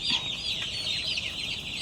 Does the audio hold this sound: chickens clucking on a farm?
yes